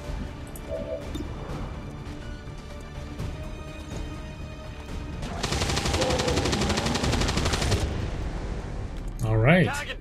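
Vector rifle fire in XCOM 2 comes as a dense, sustained burst of rapid shots lasting a few seconds amid game ambience, followed by a sharp impact sound, all heard beneath intermittent commentary.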